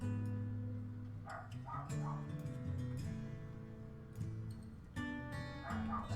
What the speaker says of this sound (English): the dogs are barking like crazy